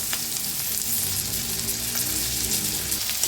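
Tomato and onion fry together in a pan with a steady, close hiss of sizzling oil and occasional light stirring taps over a few seconds, with no talking.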